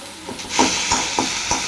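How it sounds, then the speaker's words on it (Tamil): Chicken for momo stuffing sautéing in oil, a bright hissing sizzle punctuated by four or five spoon scrapes against the pan in a loose rhythm, close and alone. "இந்த சிக்கனை நல்லா அந்த எண்ணெயிலேயே வதங்கணும் அந்த கறி எண்ணெயிலேயே வேகணும்"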